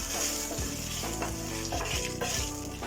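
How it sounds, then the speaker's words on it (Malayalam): Whole spices such as bay leaf, cinnamon, cardamom, cloves and fennel seeds sizzling loudly in hot coconut oil, a dense continuous hiss with a low rhythmic scraping as they are stirred. "ബേ ലീഫ്, പട്ട, ഏലക്കായ, ഗ്രാമ്പു, പെരിഞ്ചീരകം, ഇത് മൂന്നും ഇട്ട് കൊടുത്തിട്ട് ഇത് ഒന്ന് ഇളക്കി കൊടുക്കാം."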